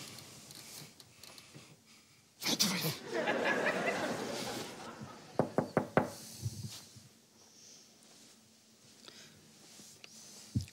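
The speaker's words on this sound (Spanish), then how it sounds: "¿Han llamado a la puerta o lo he soñado yo?" A run of sharp knocks on a door, about five quick raps in a row, stands out clearly at close range after a burst of laughter and rustling in a Spanish sitcom scene.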